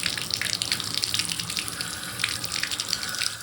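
Cold water pours steadily from an old shower valve that has sat unused for years, a continuous hissing gush of running water with no voices.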